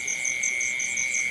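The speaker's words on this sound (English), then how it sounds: "I can hear the crickets." Crickets chirp steadily outdoors at night in Thailand, a continuous high-pitched trill with a pulsing upper band and no voices over it.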